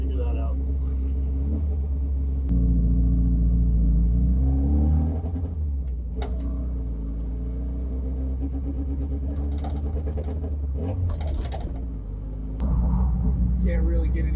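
A Saab Sonett's engine runs at a high idle with its choke stuck, giving a steady, close, low rumble inside the car with a voice over it.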